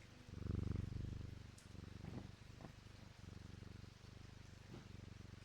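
A cat purrs in a video game, a close, steady low rumbling purr that swells loudest early on and then continues softer, with no talk.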